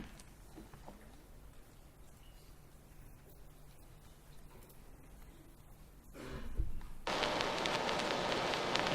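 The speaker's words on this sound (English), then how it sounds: "Hear that static?" Crackle from a vinyl record played during a stage musical starts as faint, soft hiss, then swells into a loud, dense, rain-like crackling over the last couple of seconds, with no speech.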